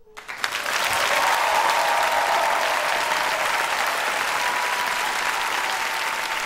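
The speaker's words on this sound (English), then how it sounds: "give a warm round of applause." A live poetry-show audience breaks into loud, sustained applause, swelling quickly and holding as a dense wash of clapping for several seconds.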